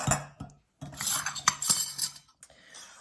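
A spoon scrapes and clinks around a bowl of pumpkin pancake batter made with whole grains, with several close, irregular knocks and scraping strokes and a short pause near the start.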